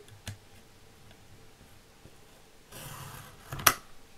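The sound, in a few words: cutting paper with a small blade on a punch board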